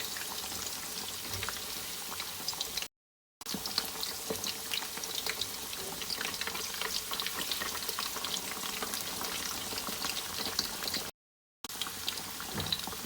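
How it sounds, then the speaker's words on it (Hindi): Coated fish fries in hot ghee for a Lahori fish fry, a steady close sizzle and crackle of bubbling fat that continues evenly throughout. "आप जब फिश को डालें गरम घी में तो आप फ़ौरन से ही उसकी साइड चेंज नहीं करें"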